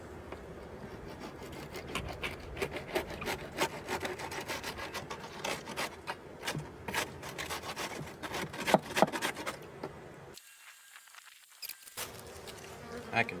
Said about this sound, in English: Got a little more burr comb I can cut.